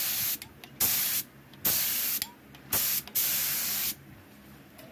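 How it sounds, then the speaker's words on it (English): A spray gun laying primer on a 2013 Toyota body panel, loud hissing bursts of about a second each, separated by brief pauses, close up with no talking. "I'm shooting this primer here, and we're just kind of doing this."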